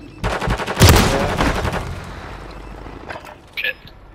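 Gunfire in the video game The Division Resurgence: a loud burst of rapid automatic shots near the start, fading into echoing reports, then a few scattered distant shots and brief game effects, with voices talking over it.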